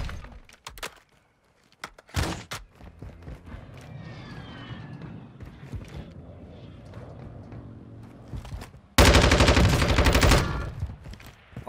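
Lachmann 556 assault rifle firing in the Warzone 2 video game: short sharp shots early on, then a loud sustained automatic burst near the end, with rumbling game action between; no talking.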